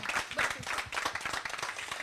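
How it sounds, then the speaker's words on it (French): An audience applauds an arriving speaker at an evening event, a brief burst of close, dense hand clapping with distinct individual claps. "Applaudissez-la quand même"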